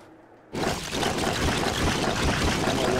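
Rushing water floods across blocky terrain in Lego Worlds, bursting in suddenly after a quiet moment and then pouring steadily and loudly without pause.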